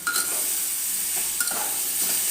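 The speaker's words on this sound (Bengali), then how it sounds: "এটা ভেজে নেওয়ার পরে আমি 2টো চিড়ে রাখা কাঁচা লঙ্কা দিয়ে দিলাম" Two slit green chillies drop into hot oil where rohu fish is frying, giving a steady, close, loud sizzle with a few light clinks of stirring.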